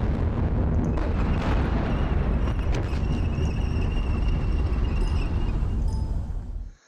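A heavy artillery explosion effect from a Normandy 1944 Operation Goodwood wargame, a loud, dense rumbling blast sustained for several seconds before cutting off abruptly.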